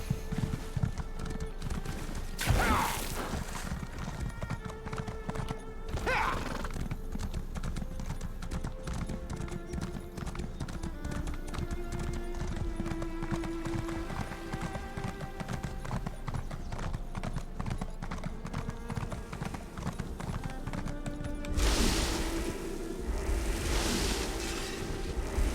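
Horse hooves clip-clop steadily and close while riding in the Summerset region of the game Elder Scrolls Online, a continuous trotting rhythm over faint ambient wind and music.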